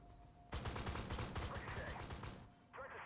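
Rapid gunfire from a tank squad in the online tank combat game Armored Warfare, a loud, dense burst of repeated shots lasting a couple of seconds, with a faint voice speaking beneath it.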